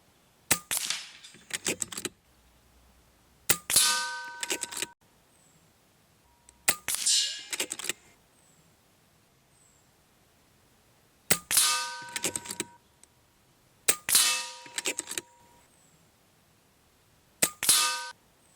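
Shots from a scoped rifle at a target: a series of sharp, close cracks, each followed by a short metallic ring and rattle of handling, spaced a few seconds apart with quiet gaps.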